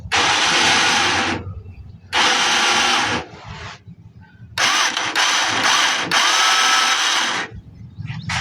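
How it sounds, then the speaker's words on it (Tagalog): A faulty electric starter cranks a motorcycle engine in several loud bursts, whirring for a second or so each time, with short pauses, but the engine never catches. "napansin nyo na umiikot naman yung motor pero ayaw umandar ng makina"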